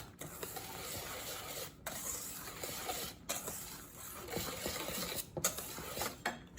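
Electric mixer beating buttermilk cake batter with vanilla extract, a steady, fairly quiet mechanical whir broken by a few brief pauses.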